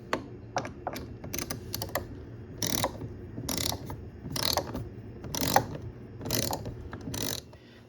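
A 5 mm socket wrench ratchets on the front leveling feet of a KitchenAid dishwasher, giving repeated short bursts of quick metallic clicks, close and clear, with no one speaking.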